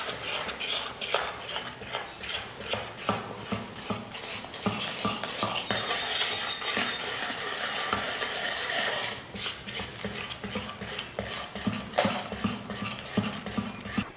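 Gram flour mix being stirred into hot sugar syrup over a low flame for Mysore pak, a spoon or ladle scraping and clinking steadily against the pan with a busy, close metallic churn throughout, briefly easing after the midpoint.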